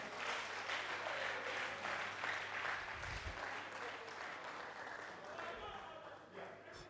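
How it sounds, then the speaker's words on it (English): Audience clapping at an academic staff promotion gathering, faint and distant, a soft continuous patter of hands under a steady room hum, with a low thud or two partway through. "Please clap for her."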